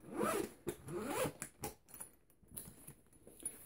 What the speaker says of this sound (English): this case only opens by zipper.